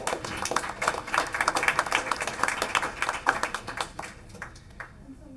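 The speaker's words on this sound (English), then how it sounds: "Let's give our staff a big round of applause." A room of people at a school district board meeting claps for staff, the applause lively and close before thinning into a few scattered final claps.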